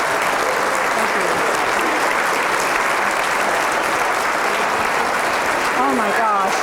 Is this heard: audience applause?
yes